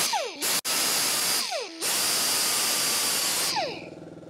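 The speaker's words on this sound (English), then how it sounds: "Sorry about the air compressor" A workshop air compressor runs loud and close, a continuous harsh whine with brief dips and restarts, then trails off toward the end, heard while servicing a neglected Honda Harmony HRS216 mower.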